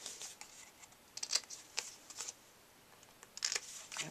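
Scissors cut paper for a Christmas card, making quiet, close crisp snips in short irregular bursts.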